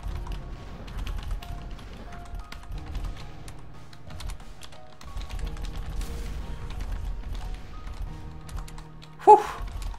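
Fast, uneven keystrokes clatter on a computer keyboard during a ZType typing game, close and fairly quiet, with a brief sharp game tone near the end.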